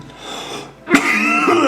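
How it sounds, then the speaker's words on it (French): A single sharp cough from a person bursts out near the middle, loud and close, with a brief throaty rasp trailing after it over a quiet room background. "Excusez-moi, ça m'arrive de tousser."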